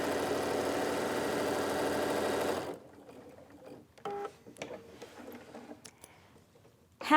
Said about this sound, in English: Aligning my pin tuck along the groove on the bottom of my foot, I'm just going to begin to sew.